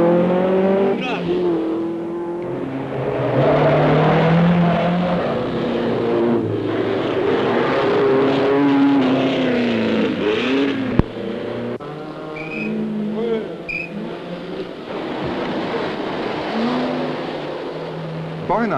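Alpine and Lancia rally cars at the 1972 Monte-Carlo Rally rev and roar past one after another, engines rising and fading, with a commentator talking over them.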